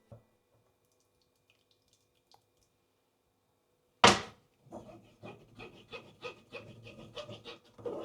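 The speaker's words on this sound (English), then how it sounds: "I'm gonna pass it through a fine sieve so we get this super silky smooth texture" Roasted vegetable soup is worked through a fine sieve after a sharp clatter, followed by a run of soft, rhythmic scraping and wet rubbing strokes close by, with no talk.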